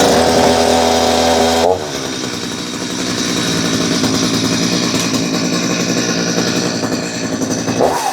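A Stihl MS250 chainsaw that has trouble starting runs loud and close, its two-stroke engine first holding a steady high idle and then dropping into a rougher, buzzing running note that lasts to the end.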